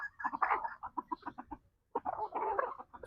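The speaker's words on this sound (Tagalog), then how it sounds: "Paglinis tayo at magkapakain tayo nating mga alaga manok" Pet chickens cluck in quick, clustered bursts close by before feeding, with a brief pause in the middle and no talking.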